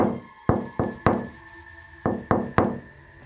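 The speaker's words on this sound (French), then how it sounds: "on toc-toqua à la porte." Seven sharp knocks on a door, delivered in two quick groups of three and four with a pause between, loud and close with nothing else audible.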